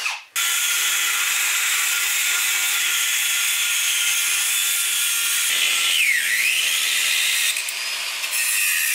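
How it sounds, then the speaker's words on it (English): A power tool whirs steadily while backing screws out of seats inside a vehicle being stripped, the motor noise loud and close for nearly the whole stretch, with a brief pitch sweep partway through and no talking. "I'm just gonna take out screws all over the place."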